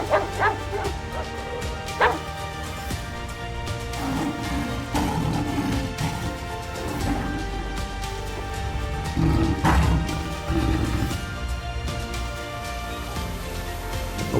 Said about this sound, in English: A pack of dogs stays on high alert as danger approaches.